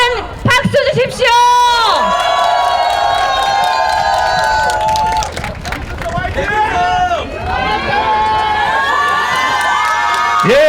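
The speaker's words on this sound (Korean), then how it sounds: "여러분 큰 박수 주십시오" Cheering and whooping crowd at a Seoul election rally for candidate Lee Jun-seok, loud and sustained throughout, with shouting voices and chants layered over the din.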